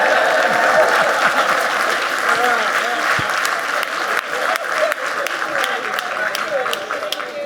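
A crowd of people claps steadily at an Atlanta city event, a dense, sustained burst of applause close by with faint voices mixed in.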